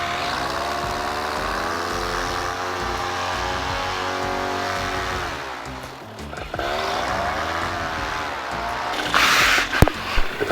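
A new paramotor's engine drones steadily in flight, loud and close with a constant harmonic whine that dips briefly as the throttle eases, then picks back up, with a little wind noise and faint voices.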